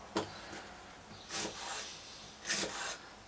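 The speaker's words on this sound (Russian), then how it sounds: "Такое сухое, грамотное такое царапание кромкой доски." A kitchen knife with strongly concave grinds slices a small onion on a wooden cutting board, giving three dry, rasping scrapes against the board edge at roughly even intervals, close but quiet, with no talking.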